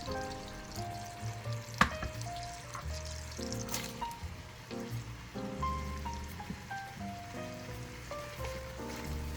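Sausage, celery and onion sizzle and crackle in a pan while being stirred, a close, continuous frying hiss with scraping and clinking mixed through it.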